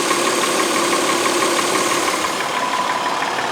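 A Honda Pilot engine idles roughly with a misfire, giving a continuous, even mechanical hum at close range with no talking.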